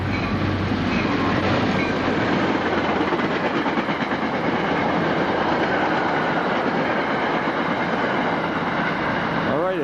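Train cars rumble past on the rails in a steady, loud, continuous roar with faint clickety-clack, from a steam train ride with an Erie Berkshire locomotive on the line; no one speaks over it.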